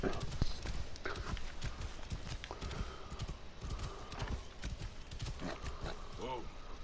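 Horse hooves clip-clop steadily in the Assassin's Creed Origins video game, a quick, fairly faint rhythmic patter that continues throughout under someone talking in French.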